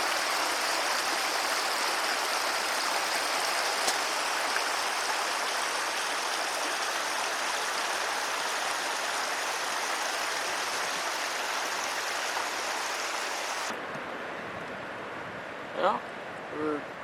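A steady broadband rush of falling water from a waterfall just west of Lone Pine Lake, on the trail up from Whitney Portal, fills most of the clip up close before cutting to quieter ambience with faint brief sounds.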